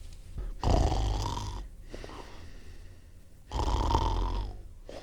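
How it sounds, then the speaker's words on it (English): A dog snores slowly and rumblingly twice, each a long raspy inhale with quieter breathing between, close and steady. "Your dog snoring."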